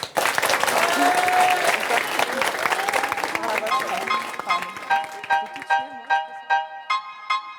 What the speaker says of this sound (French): Sous vos applaudissements, je demande d'encourager nos deux artistes courneuviens, Amélie et Darius